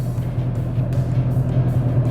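A Mercedes-Benz CL500 rolls forward in drive with the handbrake fully down, a steady low engine drone heard loud from inside the cabin.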